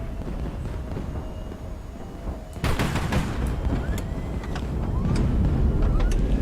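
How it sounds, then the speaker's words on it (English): Ammunition stored beside a ship's engine explodes in the HighFleet video game, a sudden loud blast followed by a dense run of crackling secondary detonations and rumbling over steady engine drone, with no talking. "ammo next to the engine has exploded"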